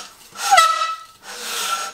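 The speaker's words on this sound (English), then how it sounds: "you just unscrew the bell of your instrument" Metal rubs and squeaks in two short stretches as a trombone's bell is unscrewed, with a thin whining ring during the first turn.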